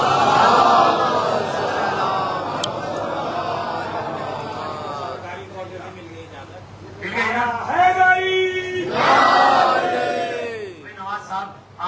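A religious gathering's crowd roars back in loud unison, then several more surging waves of massed voices follow, sustained shouts rising and falling across the stretch.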